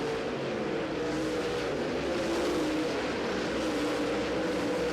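Race cars roar down the front straightaway of a dirt oval at EAMS during the Jimmy Thomas Memorial, a loud, dense, continuous engine drone sweeping past with shifting pitch.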